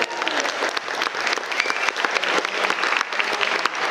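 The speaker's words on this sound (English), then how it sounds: "Round of applause, I think." Wedding guests at Lulworth Castle applauding during the speeches, a lively burst of dense, close clapping with scattered sharp hand claps that carries on steadily throughout.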